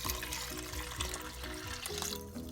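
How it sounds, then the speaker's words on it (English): Six cups of water poured into an Instant Pot for Cajun red beans and rice, a steady close splashing fill with continuous broadband noise and some background hum throughout. "I'm going to start with 6 cups of water."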